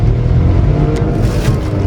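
A Skoda Kylaq Classic pulls away hard in first gear, its petrol engine a loud, steady close-up roar that holds for the whole burst.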